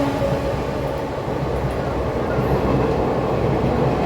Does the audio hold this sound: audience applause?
no